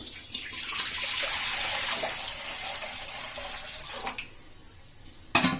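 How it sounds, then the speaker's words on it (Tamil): Water pours steadily into a kadai on a gas stove while preparing goat intestine curry, a continuous splashing rush that tapers off after about four seconds, followed by a brief clank at the end. "தண்ணியை ஊற்றிக்கலாம்."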